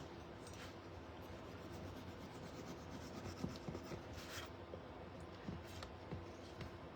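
Wax is rubbed by hand onto a painted wooden cutout, producing quiet, close scuffing and rasping strokes that repeat irregularly against a low background.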